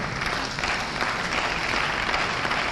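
An audience at a South East venture capital programme in Enugu applauds the President's metro rail feasibility study, a dense, even wash of many hands clapping that holds at a steady level throughout.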